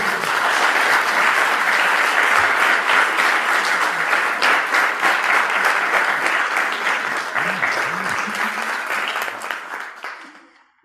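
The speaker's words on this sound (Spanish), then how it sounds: "Démosle un bellísimo fuerte aplauso." Sustained, dense applause from a large conference audience continues steadily for about ten seconds, then dies away at the end.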